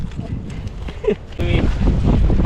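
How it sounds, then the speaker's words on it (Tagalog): Heavy wind buffeting a microphone outdoors, a loud low rumbling roar that gusts and surges, strengthening toward the end, with a voice speaking over it. "Yeah, it's windy."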